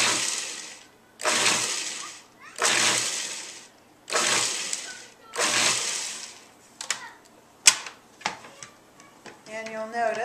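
Kale being pulse-chopped in a food processor, about five short whirring bursts in a regular rhythm with brief silences between them, followed by a few clicks and a voice speaking at the end.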